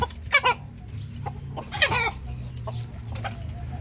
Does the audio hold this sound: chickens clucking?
yes